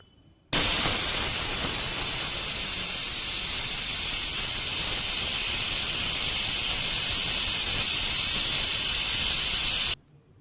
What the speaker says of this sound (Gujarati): તો જો ત્રણ સીટી વાગી ગઈ